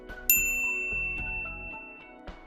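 A bright notification bell dings once, a sharp chime that rings out and slowly decays over soft background music.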